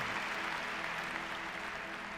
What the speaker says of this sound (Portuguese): Se você crê, aplauda ao Senhor.